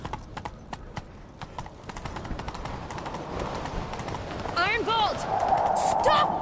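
Rapid hoofbeats clop in a galloping rhythm, growing louder as the pace builds, with a horse whinnying near the end, in the video game The Witcher 3: Wild Hunt.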